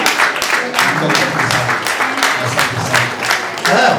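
A church congregation at a pastor's ordination applauds with dense, continuous clapping that stays loud and steady throughout, with voices mixed in.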